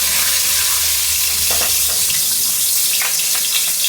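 Whole dried red chillies sizzling in a generous pour of hot mustard oil in a pan, a dense, steady frying hiss with a few brief crackles, close and alone.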